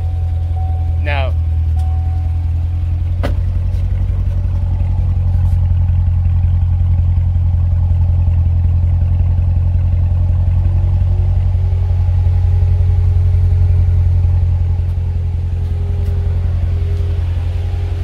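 A Chevrolet Corvette Stingray engine idles with a steady, deep rumble that holds at a constant level throughout, with a brief higher chirp near the start.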